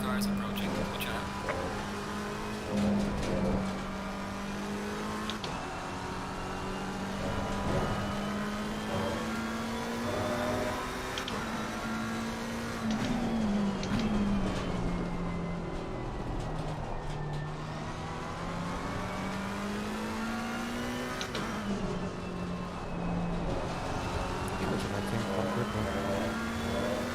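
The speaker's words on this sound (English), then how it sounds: "Faster cars approaching." GT race cars in the Assetto Corsa Competizione game at the Spa 24-hour race, engines droning loudly and steadily, with pitch rising and falling through gear changes as faster cars close in and pass.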